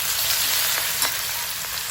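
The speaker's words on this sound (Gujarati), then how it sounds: "અને લસણ, મરચાં અને આદુની પેસ્ટ એડ કરીશું." Garlic, chilli and ginger paste hitting hot oil with bay leaf, red chillies and curry leaves, a dense, close crackling sizzle throughout with a couple of light stirring knocks.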